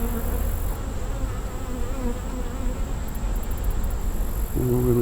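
Honeybees buzz steadily during a hive inspection as brood frames are checked, a dense, continuous close-up drone with small clicks near the end.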